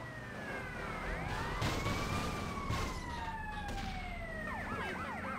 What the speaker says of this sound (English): Oh, there's a police car.